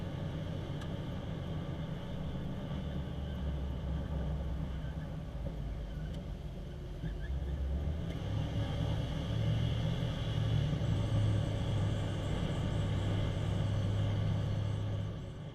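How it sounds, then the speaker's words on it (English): A steady low engine rumble from inside a moving 1978 Ford F-150 pickup on a test drive after belt and power steering leak repairs, rising slightly partway through as it picks up speed, with no talking. "We're going to take it for a test drive now."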